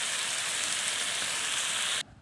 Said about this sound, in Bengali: এবার এর মধ্যে আমি দিয়ে দেব যে ভেজে রাখা চিংড়িগুলোকে আমি দিয়ে দিচ্ছি।